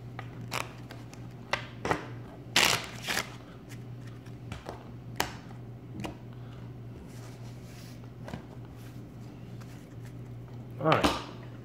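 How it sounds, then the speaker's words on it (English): A deck of playing cards is shuffled by hand, giving scattered soft riffles and sharp snaps spread across a quiet room with a low steady hum underneath. "Got everybody here on some cards. And shuffle them up real good."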